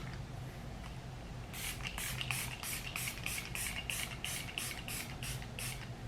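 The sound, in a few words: setting spray being sprayed on face, Makeup Revolution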